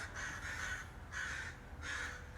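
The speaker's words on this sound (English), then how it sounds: "is listening to the birds talk" Crows cawing outdoors in three loud, evenly spaced bursts of harsh calls over a low rumbling background.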